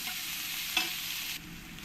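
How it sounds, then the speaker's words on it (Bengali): Chopped onions frying in oil in a pan for palak paneer, a steady broadband sizzle with a single brief stir of the spatula, heard close and alone. "পেঁয়াজগুলো দিয়ে আমি ভালো করে লাল লাল করে ভেজে নেব"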